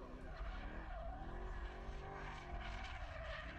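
A race car skids with locked front wheels during qualifying, its engine roaring loud and continuous while tyre noise sweeps up and down through the whole stretch, with no talking over it.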